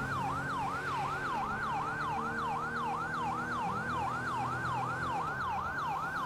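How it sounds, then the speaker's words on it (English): Emergency vehicle siren in GTA V with the LSPDFR police mod, a rapid wailing yelp pattern that repeats steadily over a low engine drone, fairly quiet, no voices. "Switch up the siren a little bit here."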